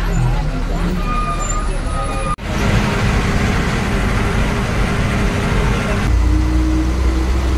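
Road traffic heard from inside a moving bus on a trip near Coimbatore, a steady loud engine and road rumble with a sharp jolt partway through.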